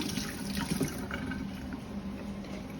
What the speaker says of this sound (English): Now we've got our 2 green onions. We're just giving them a quick wash,